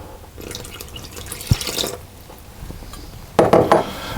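Water pours into a stand mixer bowl holding flour, egg and butter for Vietnamese banh mi baguette dough, with a short splash followed by a louder burst of running, splattering liquid near the end.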